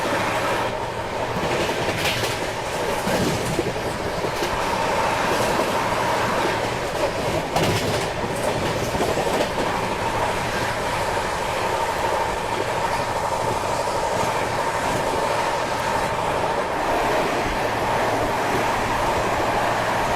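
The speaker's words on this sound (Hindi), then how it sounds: "Overtaking Telangana Express." The Telangana Express passes during an overtake, a steady loud rumble of wheels on rails with rhythmic clickety-clack from the carriages running continuously throughout.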